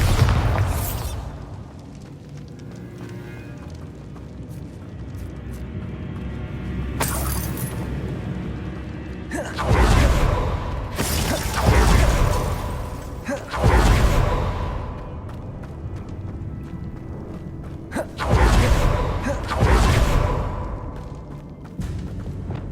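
Repeated Bombarda blasting spell explosions in Hogwarts Legacy, several loud booming bursts at irregular intervals over a rumbling game soundscape, with no speech.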